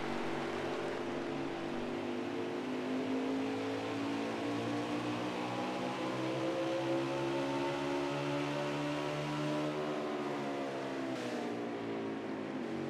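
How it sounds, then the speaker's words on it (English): Stock race cars racing at New Hampshire, a steady distant droning roar of engines that holds at a fairly faint, constant level throughout with no talk. "It was really fighting a loose race car here."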